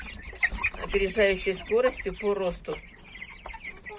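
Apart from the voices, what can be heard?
young Bresse Gauloise chickens clucking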